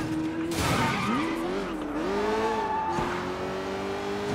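A car in the Sleeping Dogs video game drives hard, its engine revving and shifting pitch while tires skid and squeal, loud and close with no speech over it.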